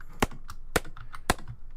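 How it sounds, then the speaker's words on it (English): Hammering in a video game, shown as three sharp, evenly spaced loud strikes with fainter clicks between them, heard alone without talk. "and hammer them."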